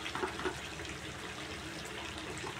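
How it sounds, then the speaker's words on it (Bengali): Hot water poured into a cooking pot of chicken, where the oil has separated, for a Sunday lunch of chicken and rice: a steady, close, rushing splash of liquid lasting throughout, with no talking. "গরম জল হয়ে গেছে, দিয়ে দিচ্ছি গরম জলটা"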